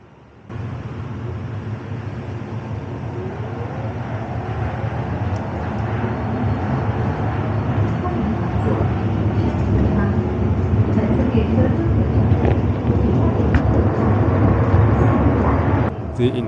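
Riding inside a short four-carriage self-driving sky-shuttle train, a steady rumbling hum of wheels and motors builds gradually and stays fairly loud, with occasional faint clicks and rattles and no clear speech.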